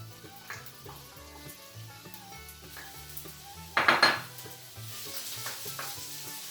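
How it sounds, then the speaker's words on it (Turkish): Onions dropped into hot oil for a minced meat sauce for potato oturtma, giving a close sizzle with pan clatter and utensil clinks, one louder burst near the middle. "Sıvı yağ döktüm. Soğanları koyuyorum."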